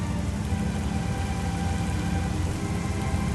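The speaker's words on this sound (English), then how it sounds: "that's an effect I don't believe was in the original Prime, was the rain interacting with the cannon" Heavy steady rain hissing without a break in Metroid Prime Remastered, running down the arm cannon, loud and continuous with no voices.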